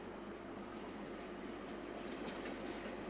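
A British Rail train passes through Crewe junction as a steady, loud rumble of wheels and rolling stock that holds evenly throughout, with no voices.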